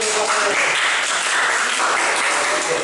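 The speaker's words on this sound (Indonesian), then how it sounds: "Tepuk tangan sekali lagi." Applause from an audience at a teacher-training classroom session in Indonesia, a dense, loud wash of clapping that holds steady throughout, with some voices mixed in.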